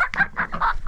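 A young hen, cold inside a frozen coop in minus 22 weather, gives a quick run of close, loud clucks, five or six short calls in under a second with no talk.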